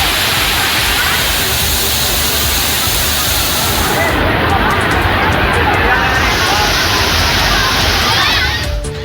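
Gushing Thirparappu waterfall in Kanyakumari pours loudly and continuously while tourists bathe beneath it, a thick roaring rush of water mixed with the babble of many voices throughout.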